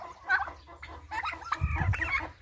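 A hen clucking in a poultry yard, several short close clucks and murmurs in an irregular run, with other fowl faintly in the background.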